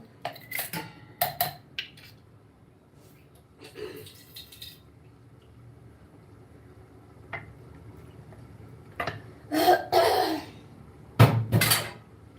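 Scattered metallic clinks and clatters of kitchen vessels, some sharp and isolated, others bunched into brief rattling bursts, with quiet gaps between.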